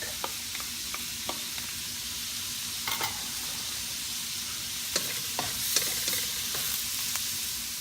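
Garlic sizzles steadily in a pan while beef caldereta cooks, a constant close frying hiss with occasional scrapes and clicks of stirring, no voices.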